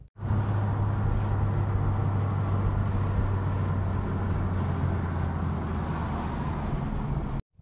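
Steady cabin drone of a Subaru WRX cruising on the road, a constant low engine hum under broad road and tire noise, even in level from start to finish.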